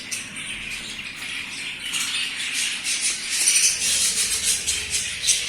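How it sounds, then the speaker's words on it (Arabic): A dense chorus of budgerigars squawks and chirps continuously in a breeding aviary on an ornamental bird farm, a busy, steady wall of bright chatter that grows slightly louder toward the end, with no talking. "بعد كده يا جماعة هوريكم عندي العصافير"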